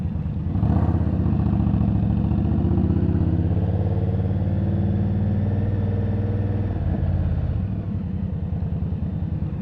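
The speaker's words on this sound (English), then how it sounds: "Almost stalled the bike out." A motorcycle engine rumbles steadily while riding through Midtown on Manhattan's Upper East Side, loud and close, then sags sharply near the end as it nearly stalls before picking up again.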